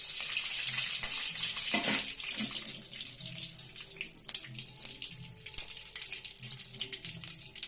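Steady bright hiss of mustard and fenugreek seeds sizzling and spattering in hot oil, continuous throughout with occasional sharper pops, close up and fairly loud.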